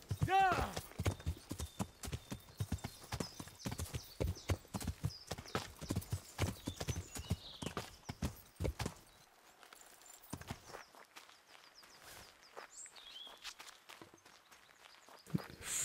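A horse ridden at a walk in Kingdom Come: Deliverance clip-clops in a steady rhythmic series of close hoofbeats, with a brief whinny at the start, then the hooves fall quiet as a voice talks.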